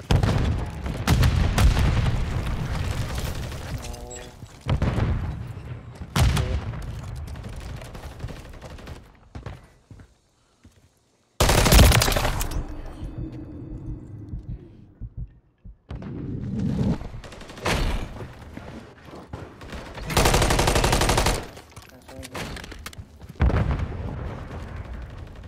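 Repeated gunfire bursts and explosions from a ranked Call of Duty: Modern Warfare 3 match, loud and close, alternating with short quieter gaps of game ambience.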